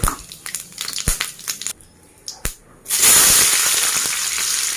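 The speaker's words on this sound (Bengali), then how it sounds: "তেল গরম হয়ে গেছে তেজপাতা গোটা জিরে আর একটা শুকনো লঙ্কা ফোড়ন দিলাম" Bay leaf, whole cumin and a dried chilli hit hot oil for tempering, first with sharp crackles and pops, then a sudden loud, steady hiss and sizzle that carries on to the end, close and without talking.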